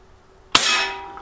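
A single sharp report from an Umarex NXG APX multi-pump pellet rifle, a sudden crack with a ringing metallic tail that fades over about half a second, heard alone after a quiet lead-in.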